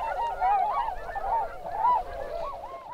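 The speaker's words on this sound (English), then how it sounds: "Tundra swans seem to fill the sky on 6-foot wingspans." Tundra swans call at Trojan Pond in Oregon, with repeated warbling, honking whoops from several birds overlapping in a steady chorus at moderate distance, with no talking.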